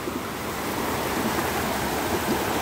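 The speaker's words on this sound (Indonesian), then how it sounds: "Ini dia sungai yang sedang mengalir." A river below Batu Jomba flows steadily, giving a continuous broad rushing wash of water with no clear breaks and no voices.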